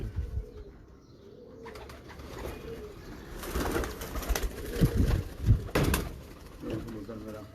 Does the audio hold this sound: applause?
no